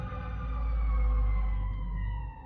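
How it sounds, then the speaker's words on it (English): Emergency sirens wail steadily nearby over a heavy low rumble of traffic, the sustained tone slowly drifting in pitch. "Excuse the sirens"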